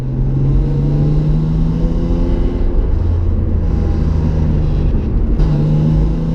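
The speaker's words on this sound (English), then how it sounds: "when you proper dump fuel in it, it starts misfiring" BMW E36 engine running rough with a faulty misfire, a loud steady close-up drone and rumble with slight dips and stumbles in the idle, no voices over it.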